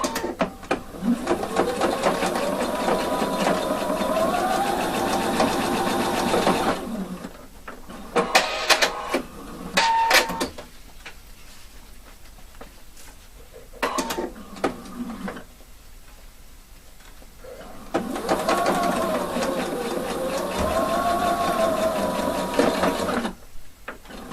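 A sewing machine stitches the side seam of a shaped waistband, running in two long, steady whirring bursts near the start and end, separated by quieter handling sounds and brief clicks.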